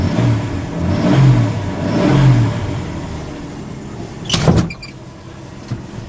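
A 1983 Ford F-150 truck that had sat unstarted for many months runs just after starting, its engine rumbling and surging in low pulses, with a brief sharper burst of mechanical noise partway through.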